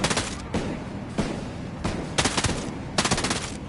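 Bursts of automatic rifle fire in the Ghost Recon Breakpoint video game, several sharp rattling volleys separated by short pauses, loud and close.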